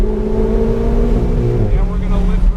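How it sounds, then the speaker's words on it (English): A race car at a driving experience accelerates hard at full power, its engine a steady, loud drone with rising harmonics, heard from inside the cockpit alongside an instructor's voice. "Keep building it up now, full power."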